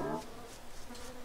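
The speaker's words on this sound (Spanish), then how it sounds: "me salieron un montón de abejas asesinas" Killer bees buzzing in the video game Don't Starve Together, a faint steady insect drone with swelling wing hum and a brief low tone at the start, heard alone without speech.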